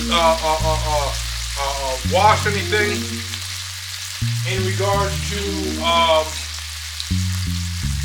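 Potatoes sear in a hot pot while chicken and asparagus are prepared, giving a steady close sizzle and frying hiss throughout, with occasional stirring and a person talking over it.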